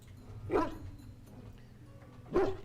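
Dog barks from a modded Dragon Age: Origins game, two short separate barks over low game ambience, moderately quiet.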